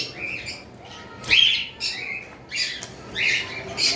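Albino cockatiels at a bird farm give sharp, scratchy squawks and chirps in short repeated bursts, fairly close against a quiet background.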